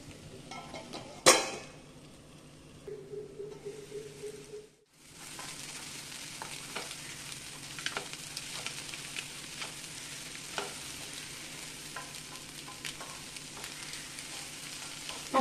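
An egg bun mixture frying on high flame in a pan, with a steady soft sizzle and crackle running throughout, a sharp clatter near the start and a brief drop in sound as a lid settles over it.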